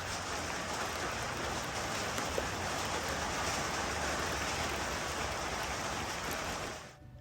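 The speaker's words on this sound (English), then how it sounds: "Raindrops descend, and serenading the land, they replenish the rainwater tank and offer respite to the parched soil below." Steady rain from a summer thunderstorm falls on an off-grid property in Australia, a dense, even hiss with no talk, fading out at the very end.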